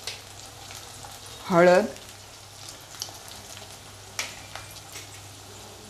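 Asafoetida and spices dropped into hot oil with onion, a soft crackling sizzle with scattered pops, while someone briefly speaks and sings out a short phrase early on.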